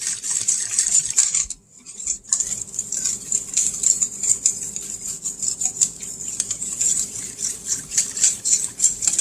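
Homemade pizza dough ingredients, including active dry yeast, being stirred in a bowl: quick, steady scraping and tapping strokes with a short pause near the start, close and moderately loud.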